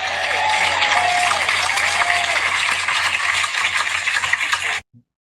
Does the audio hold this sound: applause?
yes